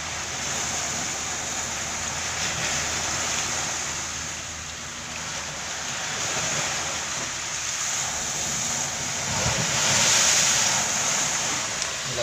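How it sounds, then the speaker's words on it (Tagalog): Big ocean waves break steadily on a sandy beach, a continuous loud roar of surf with wind buffeting the microphone and a stronger crash building near the end. "Lalaki ng alon, no?"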